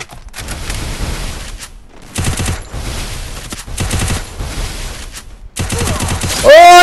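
Close, loud bursts of rapid automatic gunfire from the battle royale video game Garena Free Fire come in several separate volleys, with brief gaps between them.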